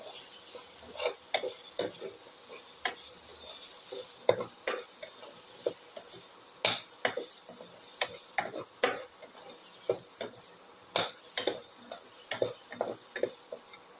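Potato curry with cumin and turmeric mixed in a pan, a spoon ticking and scraping against the metal in quick, fairly regular strokes over a soft, steady sizzle, close and without talk.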